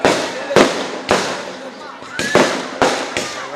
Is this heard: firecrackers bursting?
yes